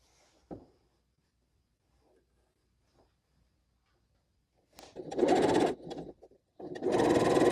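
A sewing machine chain-pieces quilt block pieces, stitching in two loud, close bursts after a mostly quiet stretch with a few faint handling clicks.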